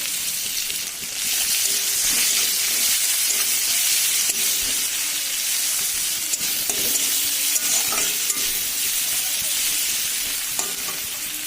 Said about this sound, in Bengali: এবার দিয়ে দেবো আমাদের পেঁয়াজ কুচি,